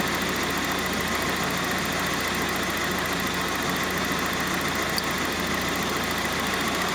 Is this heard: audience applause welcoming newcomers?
no